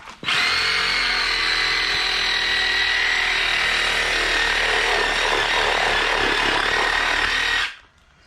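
A power saw cuts steadily through the neck of a butchered Kunekune pig, a loud sustained buzzing whine for about seven seconds before stopping abruptly.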